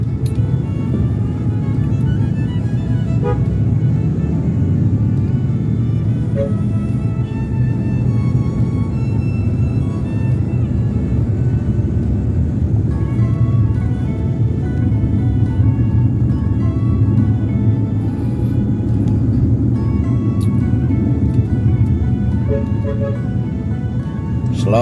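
A car engine hums steadily in Jakarta stop-and-go traffic near the Permata Hijau traffic light, droning low and continuous with gentle acceleration, while a voice talks over it now and then.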